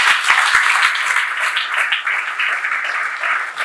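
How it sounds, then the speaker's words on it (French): Wedding guests applaud a newly crowned queen at an official wedding ceremony, a dense, steady wash of clapping from a nearby crowd that carries on evenly throughout. "Applaudissons la reine."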